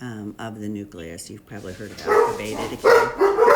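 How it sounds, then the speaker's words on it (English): A dog barks and yips a few times in the background while a person keeps talking over it. "sorry for that barking"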